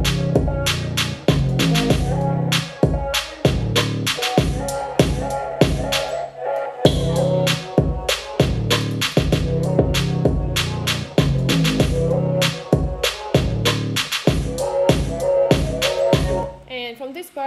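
A beat plays with an 808 bass squashed through an OTT multiband compressor, booming under steady rhythmic hits and a busy, punchy mix that runs continuously before cutting off near the end.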